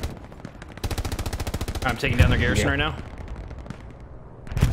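Gunfire and artillery in the World War II shooter Hell Let Loose, with rapid machine-gun bursts and heavy booming impacts running nearly nonstop under a player's speech.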